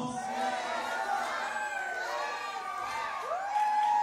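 Party crowd shouting and cheering together, overlapping raised voices and whoops chanting in a lively near group, steady and loud throughout with a brief surge near the end.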